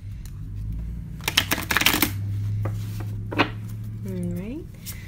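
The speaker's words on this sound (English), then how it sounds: "That was one good shuffle." A deck of cards shuffled by hand, a quick burst of riffling flutters and taps near the middle, close and clear over a low steady hum, with a brief voice afterward.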